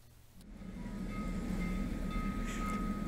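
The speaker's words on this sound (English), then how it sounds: "now they're pulling us back with the steam engine." A train hauled by a steam engine starts moving, with a low rumbling drone that swells after a brief clank and holds steady and fairly quiet.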